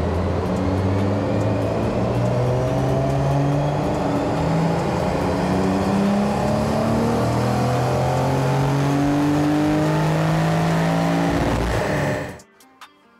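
A Nissan 300ZX's VG30 V6 engine revs hard and steadily under load on a dyno, its pitch climbing in repeated sweeps, loud and close, before cutting off abruptly at the end.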